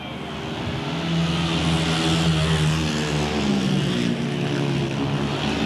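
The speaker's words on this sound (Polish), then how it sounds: "Ryszard Dołomisiewicz bardzo pewnie prowadzi motocykl" Speedway motorcycles race around the track during a Polish league meeting between Polonia Bydgoszcz and Apator Toruń, their engines a loud, continuous droning roar that swells and shifts in pitch as the bikes circle, with no talk.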